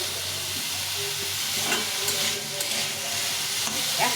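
Onion and cauliflower fry in a pan, a steady close sizzle and hiss with occasional stirring scrapes throughout.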